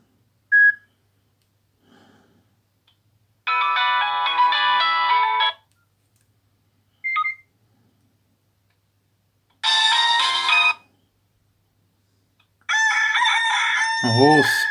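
A Nokia mobile phone plays a rooster-crowing ringtone at full volume. The rooster calls come in separate bursts with short beeps between them, and the last crow drops down in a slide.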